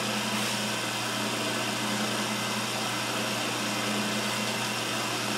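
A wood lathe turns a chair spindle cut with a larger gouge, making a loud, steady whirring drone with a constant hiss of cutting that runs unbroken throughout.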